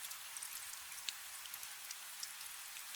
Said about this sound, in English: The rain's still falling, soft as ever, and it'll be falling when you wake.